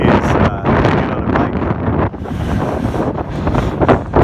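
Strong coastal wind buffets the microphone while cycling near the ocean, a loud continuous roar with gusting surges and no voices.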